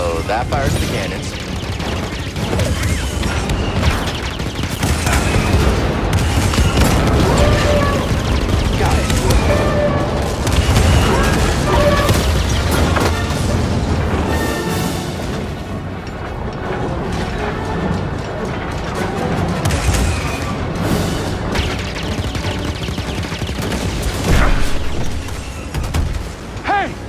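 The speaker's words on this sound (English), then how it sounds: "So that fires the cannons." Cannons fire repeatedly in the Star Wars Jedi: Fallen Order video game, heavy booms and blasts in a dense battle din mixed with laser fire, while a player talks over the action.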